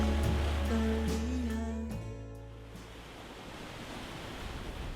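Sea waves wash onto the shore of Udo island, a soft, steady hiss of surf that rises as a tonal drone fades out in the first two seconds.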